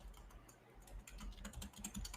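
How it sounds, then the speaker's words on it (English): Fast, furious typing on a computer keyboard, a dense run of clacking keystrokes close by with a brief lull partway through, no voices. "Starts typing furiously."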